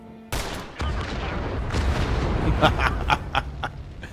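A single loud gunshot cracks out in the stealth strategy video game The Lamp, followed by a dense, rumbling wash of fire and debris with sharp crackling bursts, from a sniper shot aimed at TNT in tall grass.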